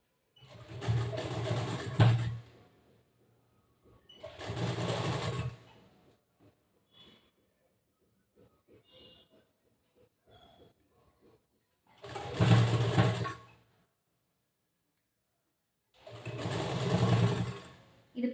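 A sewing machine stitches the back piece of a boat-neck blouse in four separate bursts of whirring, with quiet gaps of light handling between runs.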